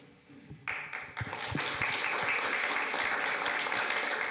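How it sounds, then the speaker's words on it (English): Applause breaks out at a town swearing-in ceremony, starting with a few scattered claps and swelling quickly into steady, full audience clapping that holds to the end. "You can always count on Damon to make sure the round of applause begins"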